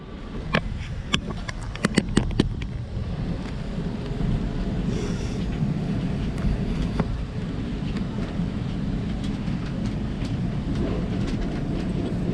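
A Bronx Zoo monorail train rumbling along and drawing to a stop, a steady low mechanical roar with some wind buffeting and a few sharp clanks and clicks near the beginning.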